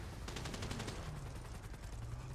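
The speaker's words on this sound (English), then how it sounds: "I'm getting shot at." Rapid automatic gunfire in a shooter video game, a quick burst of closely spaced shots followed by scattered further shots, fairly faint and steady in level.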